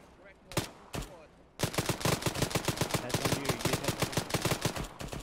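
Video-game gunfire: a few separate single shots, then a fast run of sharp rapid bursts like automatic fire, close and loud.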